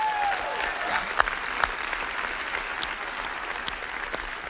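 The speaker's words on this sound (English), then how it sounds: "can we give a round of applause just to welcome them" A congregation welcomes the Lagodi campus with warm applause, many hands clapping in a dense, steady stream with a few sharper claps standing out, kept up for the whole stretch.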